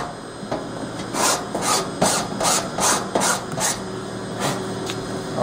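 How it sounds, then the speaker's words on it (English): A hand file rasps across a workpiece in repeated push strokes, about ten rhythmic scrapes close up with short pauses between them. "Files only cut on the push stroke."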